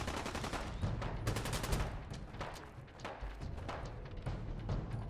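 Rapid bursts of gunfire in the detective video game Mind Games, a dense rattling volley of sharp shots repeating over five seconds at close range, with no talking.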